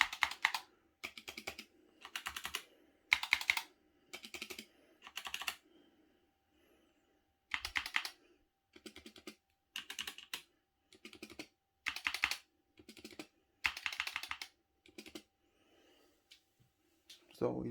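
Bursts of typing on a Razer Huntsman optical mechanical keyboard with an EU layout, quick clattering keystroke runs separated by short pauses, close and clear, with no talking.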